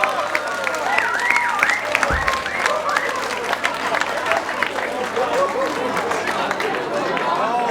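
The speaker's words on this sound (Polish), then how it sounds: "wielkie brawa!" Audience applauding at a New Year's Eve ball in a hall, a dense steady clapping that fills the whole stretch, with a voice speaking over it near the start.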